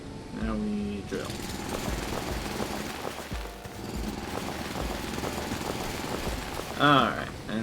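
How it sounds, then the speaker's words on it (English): A loud, steady mechanical drilling drone fills the whole span in the video game Foundry, with a brief rising tone near the end and someone talking over it. "Now we drill."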